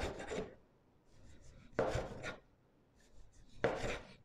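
A knife cuts through croissant pastry dough in three distinct crisp, rasping strokes about two seconds apart, close and fairly quiet with near silence between cuts.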